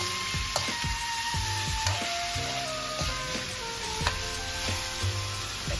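Pieces of chicken thigh fry in a pan with a steady, close sizzle dotted with small pops and crackles; no one talks.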